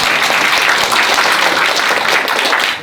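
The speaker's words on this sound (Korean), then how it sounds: "봉은사 대학생 법회의 양서원 버브에게 다시 한번 큰 박수 부탁드리겠습니다." A university Buddhist club gathering at Bongeunsa temple breaks into loud, steady applause for its student presenter, the dense clapping close and continuous until it fades at the very end.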